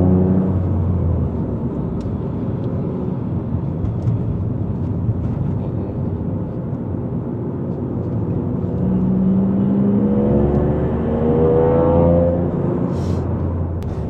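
A loud car exhaust fitted with a Catalyst downpipe drones steadily throughout, swelling into a rising rev toward the end, with no talking over it.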